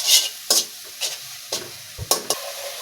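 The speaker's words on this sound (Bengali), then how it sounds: "মশলাটা ভালোভাবে আমি কষিয়ে নেব" Ginger-garlic paste with salt and turmeric fried in a pan for a fish and green banana curry, with regular spatula stirs scraping every half second over a steady sizzle.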